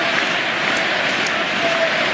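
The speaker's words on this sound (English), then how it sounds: "The applause." A large arena crowd at the Indiana Pacers' 2005 playoff game against the Detroit Pistons, Reggie Miller's last game, keeps up a dense, steady roar of applause and cheering that fills the whole stretch without a break.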